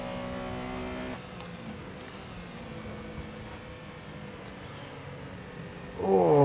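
A race car engine in a racing video game set at Buenos Aires drones steadily at a constant pitch, then rises sharply in a loud rev near the end.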